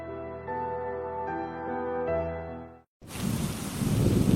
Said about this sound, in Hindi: अगले दिन हल्की हल्की बारिश हो रही थी।